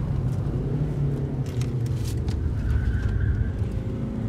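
A 110-horsepower car driving along a winding road, heard from inside as a steady low engine rumble with road noise throughout, continuous and close with no talk.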